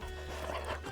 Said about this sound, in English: These are funny dogs, aren't they?